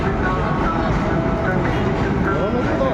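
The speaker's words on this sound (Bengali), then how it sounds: "আর ট্রেন যাচ্ছে বলে এত আওয়াজ।" A train rumbles past nearby in a steady, loud roar with metallic squeals layered on top, continuous through the whole stretch.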